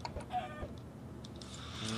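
Chickens clucking in the video game Minecraft, a few short clucks close by over a steady background with other game sounds.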